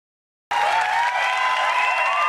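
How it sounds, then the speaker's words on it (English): Big crowd at a Trump rally, applauding and cheering in a steady loud wash that starts abruptly after a brief silence and holds without a break. "Wow. This is a big crowd."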